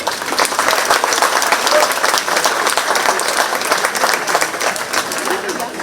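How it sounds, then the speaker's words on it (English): An audience at a county fair queen pageant applauds the candidates, sustained dense clapping from a sizable crowd that holds steady for several seconds. "Let's give another round of applause for all of our amazing candidates we have this year."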